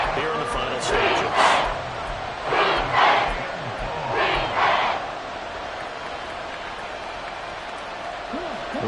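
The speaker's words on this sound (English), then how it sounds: "This crowd turning up the decibel level." A stadium crowd roars in the Madden 24 football video game during a tense third-and-long moment. Broad, swelling waves of noise rise and fall, with a play-by-play commentator talking over them.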